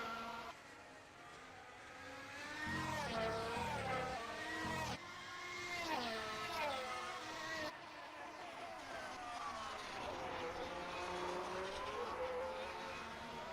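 Formula 1 cars at the Canadian Grand Prix in a racing video game scream past with high, rising and falling engine whines and gear shifts, several cars overlapping and loud, while a voice speaks over them at times.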